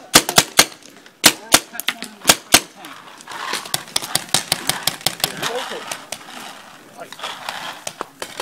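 Paintball markers fire during an outdoor paintball game as sharp close pops, first in quick bursts and then in steadier rapid volleys, with players talking under them.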